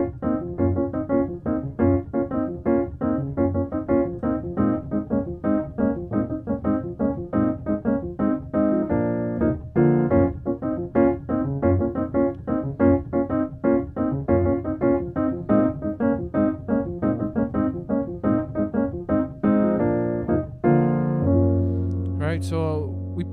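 Piano gospel jazz chords repeat in a steady progression from the 4 to the 6, full and resonant, played alone for over twenty seconds before a brief shift at the end.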